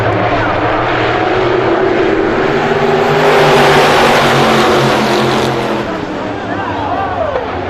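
Race cars roar together off the start of an oval short-track race, a loud continuous engine drone swelling in the middle and then easing, with a public-address voice faintly mixed in.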